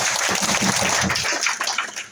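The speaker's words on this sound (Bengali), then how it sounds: "তাদের জন্য আমরা করতালি চাচ্ছি প্লিজ" An audience at a distributor training meeting applauds new master distributors, a brief dense burst of clapping filling the room.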